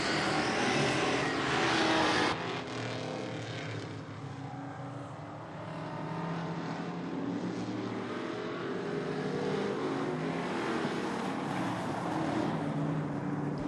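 Race cars roar around a super short track in a 2015 series race, a continuous loud engine drone with a sharp drop after two seconds, then steady blended motor noise through the rest.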